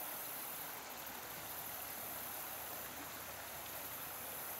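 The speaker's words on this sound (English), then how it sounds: "Just the sound of the creek" A creek flowing at Blanchard Springs in Arkansas, a faint, steady broadband rush of running water with no pauses or voices, soft and continuous across the whole stretch.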